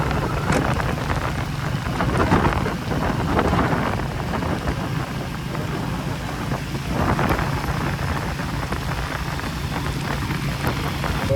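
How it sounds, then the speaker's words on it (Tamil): Heavy rain pours at Besant Nagar beach during Cyclone Ditwah, a dense, loud, continuous wash of falling water with gusting swells and no voices. "மழை நல்லா தான் பெய்யுது."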